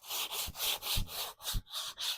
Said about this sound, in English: I'm going to go through with a 220 grit